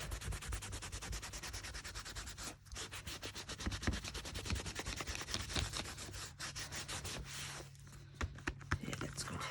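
Steady rubbing and buffing across the glazed surface of a handmade journal, a continuous scratchy sanding texture with rhythmic strokes, fairly quiet and close.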